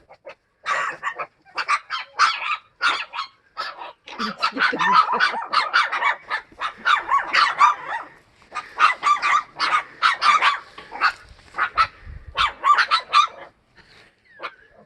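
Sapsali dogs bark at strangers in a rapid, loud run of overlapping barks and yelps close by, continuing with only short gaps throughout.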